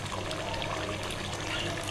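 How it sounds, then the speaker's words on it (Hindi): Water pours steadily into a pan of frying chicken korma, a continuous close splashing trickle with no voices. "अब हम इसके अंदर थोड़ा सा पानी डाल देते हैं।"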